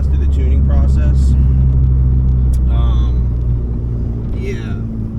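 Ford Focus MK3 fitted with a SideWinder turbo kit, a loud continuous engine drone from inside the car while driving, with someone talking throughout.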